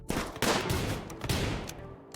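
Gunfire during a raid assault on a colony in RimWorld, a dense run of overlapping shots and blasts that holds steady for a couple of seconds.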